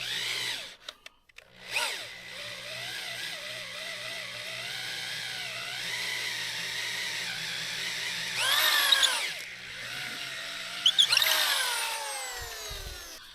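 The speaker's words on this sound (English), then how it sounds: "you're drilling down into the rocks" A power drill fitted with a corkscrew bit bores down into rocks for a gabion wall stair, whining steadily at a loud, close level with pitch shifts as it bites and short revving bursts near the end.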